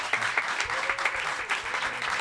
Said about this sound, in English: I think this is a moment for a clap for the boys.